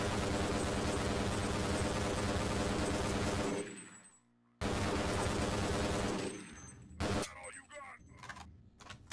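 Rapid bursts of automatic gunfire from the video game Half-Life: Blue Shift, loud and dense, cutting out briefly, then resuming before tapering into scattered shots and clatter.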